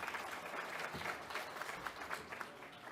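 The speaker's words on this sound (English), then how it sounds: "Round of applause for everyone." Applause from a summit audience fills three seconds, a steady, moderately quiet patter of many hands with no voices over it.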